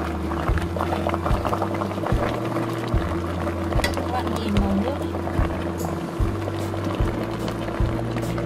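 A pot of water boiling with glutinous corn cooking in it, for homemade corn milk: a steady simmering bubble over a low, pulsing hum, continuous and fairly quiet throughout.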